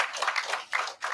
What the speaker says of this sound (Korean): 여러분 큰 박수로 함께 화답해 주시면 대단히 좋겠습니다